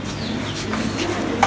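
Pigeons in a breeding room loft give soft, low murmuring coos with a faint chirp near the end, close and continuous under a mild room hum.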